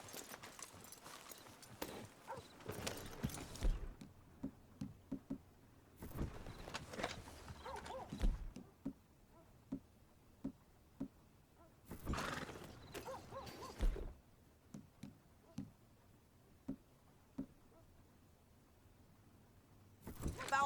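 Horses ride in Red Dead Redemption 2, with hoof clip-clops, snorts and a whinny coming in several loud bursts separated by quieter gaps of scattered hoofbeats, heard alone without talk.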